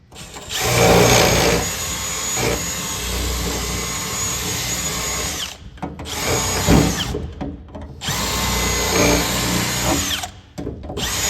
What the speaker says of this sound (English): And I just get a bigger drill bit than what you'd think and just start going to town.